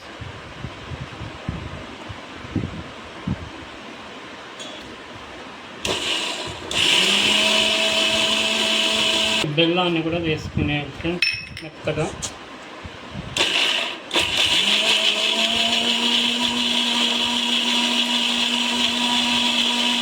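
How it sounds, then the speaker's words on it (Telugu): A mixer grinder whirs loudly in bursts, blending milk cream for chana dal payasam, starting, stopping and restarting, with someone talking briefly before it starts. "ఇప్పుడు కూడా వేసి మిక్సీ పట్టుకునేయాలి ఫ్రెండ్స్, బాగా కలిసిపోతుంది"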